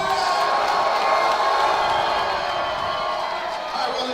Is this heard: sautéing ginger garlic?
no